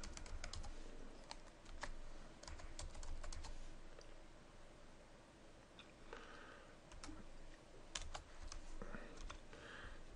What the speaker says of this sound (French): je vais taper un mail